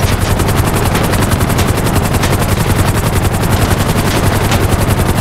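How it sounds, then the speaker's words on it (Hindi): Rapid machine-gun fire in GTA 5, aimed at a helicopter, rattles on without pause in a loud, dense stream of shots, with no voices over it. "राइट गोलियों पे गोली मारी जा रही है"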